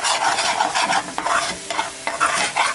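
Vegetables with soy sauce and egg are stir-fried in a pan for homemade chicken fried rice, with close sizzling and scraping of a spatula tossing the food in irregular strokes.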